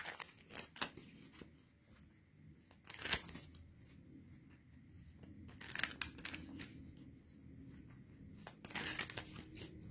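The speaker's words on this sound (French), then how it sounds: "je vais tirer 4 cartes en arc de cercle et 2 cartes" Tarot-style cards are shuffled and drawn with soft papery slides, flicks and crinkles close by, with a few sharper snaps scattered through a quiet room.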